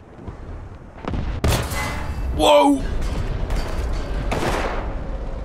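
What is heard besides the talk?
artillery fire in War Thunder video game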